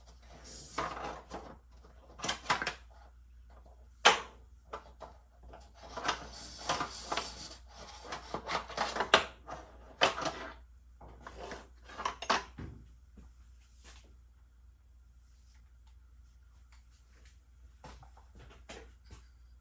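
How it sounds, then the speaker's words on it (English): Lid of a Weston 2-in-1 smoker being pried off after holding on a warm setting, its hot vinyl tubing seal giving way: a series of close knocks, scrapes and clattering metal handling with quiet pauses between. "But now I'm going to take the lid off."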